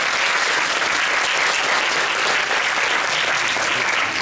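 Dense, steady applause from a large audience at the Monaco Magic 2023 opening ceremony, loud and continuous throughout with no talk over it.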